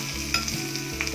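Onions sizzle in hot oil while being stirred with a tempering ladle, a close, steady crackling fry with soft scraping under it.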